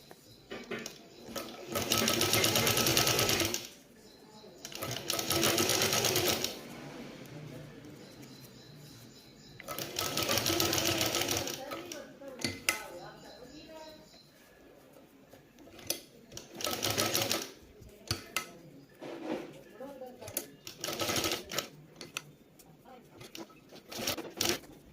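Sewing machine stitching a simple kurti, close and loud in several sustained whirring runs separated by short pauses, with softer clicks and handling noises between the bursts.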